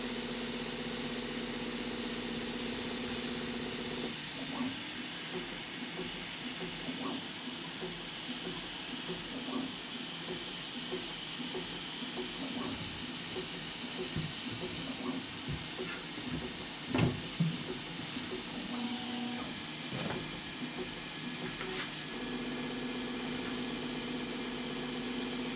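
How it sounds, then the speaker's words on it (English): Bambu Lab X1 Carbon 3D printer laying down its first layers, heard as a steady mechanical hum with fan whir, rhythmic stepper motor whines and faint clicks at close range throughout, with no talk. "we can probably see some of the first layers printing"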